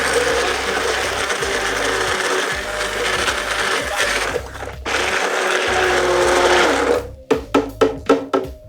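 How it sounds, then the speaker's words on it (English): A blender whirs through ginger syrup with a loud, steady motor drone that dips briefly, resumes, then breaks into a series of short pulsed bursts. "And then blend that whole thing."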